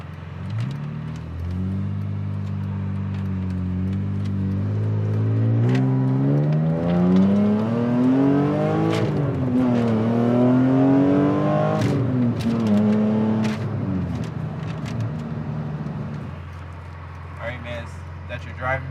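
A BMW E46 M3 engine hums steadily during a test drive, then climbs through a long rising rev and falls back to a low drone. People talk inside the car throughout.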